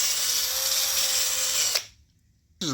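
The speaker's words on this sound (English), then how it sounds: "So let's put this on and begin the sanding process." A drill spins 500 grit sandpaper against a car headlight lens, a steady loud abrasive whine that cuts off abruptly, leaving a brief silence before it starts up again.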